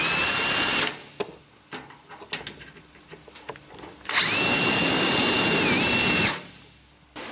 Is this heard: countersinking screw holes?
yes